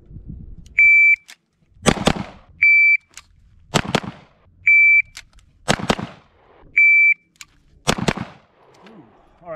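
A Beretta 92X pistol fired in a timed draw drill, with loud close shots in pairs, each pair preceded by a shrill electronic timer beep, repeating steadily.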